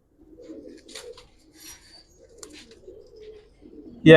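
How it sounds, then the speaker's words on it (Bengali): Giribaz pigeons coo softly and repeatedly at close range, low throaty murmurs with a few brief rustles between, ending in a sudden loud burst of noise. "একটা মাদি কবুতর"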